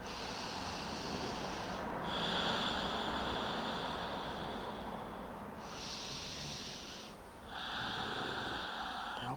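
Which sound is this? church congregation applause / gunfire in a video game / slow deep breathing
slow deep breathing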